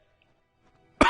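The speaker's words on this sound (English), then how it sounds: "So apologies for the coughing fit" A single harsh cough bursts out close to the microphone after a near-silent pause, from someone who has just swallowed dust, short and throaty, alone with no talk around it.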